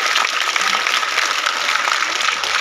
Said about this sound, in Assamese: মই কৃতজ্ঞতা বোধেৰে সৈতে হাত চাপৰি বজাবলৈ এবাৰ অনুৰোধ জনাইছো এই অঞ্চলৰ নাৰীসকলৰ কাৰণে